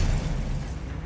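Spell cast in the Hogwarts Legacy video game, a disarming Expelliarmus, lands as a sustained low, booming burst that rumbles steadily for about a second with no talk over it.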